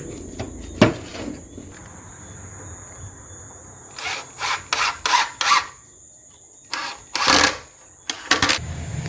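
A wooden side board is fastened to a raised bed planter box frame, with close, sharp bursts of rubbing, scraping and tool noise in short clusters between quiet gaps, no speech.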